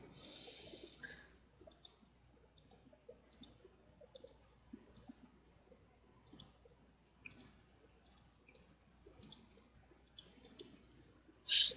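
Soft, sparse mouse clicks come one or two at a time at an uneven pace while someone operates column tool software, close and faint in a quiet room, with a sharper burst of noise at the very end.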